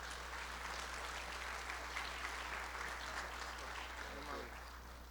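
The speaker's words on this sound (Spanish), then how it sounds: "démosle un aplauso a nuestro hermano que nos va a compartir" A church congregation applauds with a steady, continuous patter of many hands, heard faintly and at a distance, tapering slightly toward the end.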